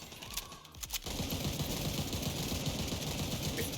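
Rapid automatic gunfire from a weapon in the video game The Division 2, a loud sustained burst of fast, closely spaced shots after a few scattered sounds, with no talking.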